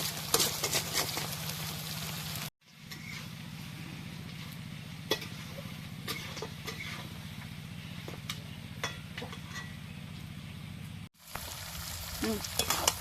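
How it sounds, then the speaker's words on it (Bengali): Wild chicken meat frying in a covered pan, a steady low sizzle with faint crackles that runs on at an even level and is broken by two brief silent gaps. "আবার ঢেকে দিয়ে আর একটু সময় ভেজে নিই।"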